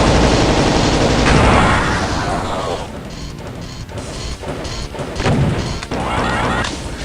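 Rockets launched and exploding during a busy fight on the Doom map Cashews from Slaughterfest 2012, with loud, dense overlapping blasts and crashes that ease slightly midway before flaring up again.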